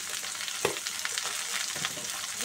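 Vegetables and spinach seasoned with turmeric and salt frying in a pan, a steady broadband sizzle with a few scraping stir strokes, close and fairly quiet.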